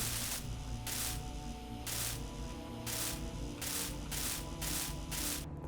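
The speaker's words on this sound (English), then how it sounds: "So yeah, weld time." In the video game Space Engineers, a welding tool works on blocks with a loud, rhythmic grinding hiss in about six regular bursts with short gaps between them, close and without talk.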